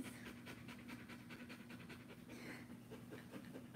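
A big dog pants steadily at home on a warm day, quick rhythmic breaths close and fairly quiet, continuing without pause and with no talking.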